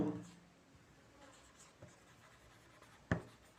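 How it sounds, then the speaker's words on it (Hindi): Faint scratching strokes of writing during a Hindi-language Class 6 science lesson, soft and intermittent, with a sharper tap near the end and no speech. "चलिए लिखते हैं पहले।"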